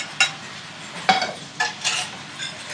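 Scallops cooking in foaming butter in a pan, a soft sizzle broken by a few sharp clinks and scrapes of a utensil against the pan.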